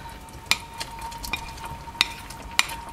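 A spoon stirs minced meat into a homemade sauce in a frying pan, giving a few sharp clinks against the pan over a soft, low sizzle.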